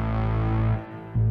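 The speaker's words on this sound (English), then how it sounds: "Gonna add some distortion." Distorted reese bassline built in Logic, a thick buzzing low synth tone with a chorused, gritty edge, sustained loudly, briefly dropping out near the end before returning at full strength.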